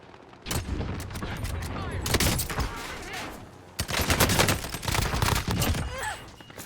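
SCAR rifle gunfire at point-blank range in the Warzone video game: loud rapid automatic bursts in two main volleys separated by a short gap.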